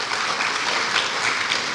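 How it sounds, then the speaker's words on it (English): Audience applause at a Bharatanatyam arangetram dance recital, honoring the live orchestra and vocalist; dense, steady clapping from a large crowd fills the room at an even loudness throughout, with no voices over it. "Can I just please have another round of applause,"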